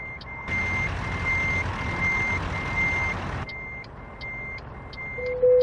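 Reversing beeps from a truck backing up a trailer in American Truck Simulator, a regular series of sharp beeps over a low engine rumble that drops partway through, then a brief louder tone at the end.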